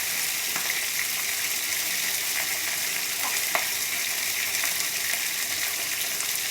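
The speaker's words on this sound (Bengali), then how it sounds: "মাছের মাথাটা খুব ভালোভাবে ধুয়ে পরিষ্কার করে ভেজে নিচ্ছি।" Two fish heads fry in hot oil, producing a steady close sizzle with occasional small pops and crackles throughout.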